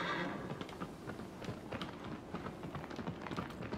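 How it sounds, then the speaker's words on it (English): A horse's hooves gallop across ground in Shadow of the Colossus, a steady rapid clip-clop rhythm of soft thuds, faint and continuous throughout with no talk. "Making my way downtown on a horse."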